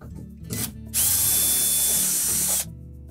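A power drill runs for one continuous burst of about a second and a half, backing screws out of a Whirlpool dishwasher's outer door panel, loud and close, with a brief shorter whir just before.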